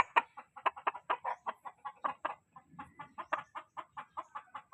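Chickens at a small breeding spot clucking close by in a steady run of short, choppy calls, several birds overlapping with brief pauses, with no talking.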